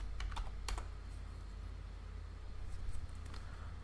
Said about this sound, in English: Let's type travel over here.